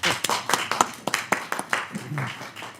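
A few people clap in sparse, uneven bursts at a budget committee meeting, close and sharp, fading out as a voice speaks faintly near the end.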